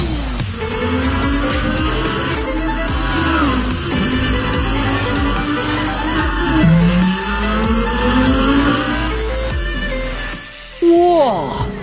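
A Lamborghini Gallardo with a 5.2L V10 engine pulls away and accelerates hard, its loud rising engine wail climbing through gear changes with a brief tire squeal, close and continuous.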